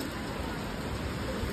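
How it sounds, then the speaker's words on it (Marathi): Rain comes down as a steady, even hiss, moderately loud and unbroken through the short stretch, with no voices over it. "कसला पाऊस पडायला लागला"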